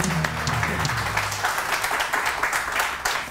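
Studio audience on a Pakistani morning talk show breaks into steady, dense applause that carries through the whole stretch, starting with a brief musical tail beneath the clapping.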